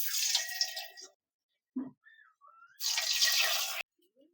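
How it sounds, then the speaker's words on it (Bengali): Round potato balls dropped into hot oil on a medium gas flame set off two loud bursts of crackling sizzle, each lasting about a second, separated by near silence and a faint clink. "এইভাবে আলুর বলগুলোকে একদম গোল গোল করে আমি তেলের মধ্যে ছেড়ে দিচ্ছি"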